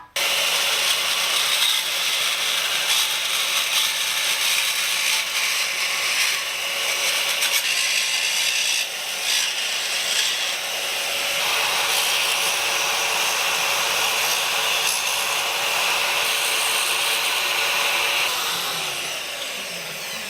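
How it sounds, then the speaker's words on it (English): Handheld bandsaw mounted on its small vertical stand cuts aluminium in one long continuous pass, a steady high-pitched metallic whine and rasp, close and loud, easing off at the end. "This is basically a handheld bandsaw, which also has a little stand."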